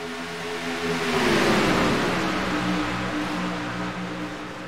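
Race cars accelerating at a race start in the iRacing sim, a dense roar of many engines swelling and holding loud, pitch rising as the pack pulls away.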